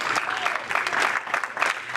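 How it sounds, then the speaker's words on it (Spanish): A short burst of clapping from a church Bible study group, dense and lively throughout, close and fairly loud. "Den un aplauso al Señor."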